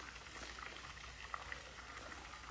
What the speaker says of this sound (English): So with the fish pond in the middle, I hope that water noise isn't too intrusive.